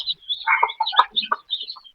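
Chirping chicks peep in quick bursts over soft hen clucks, close and alone without talk.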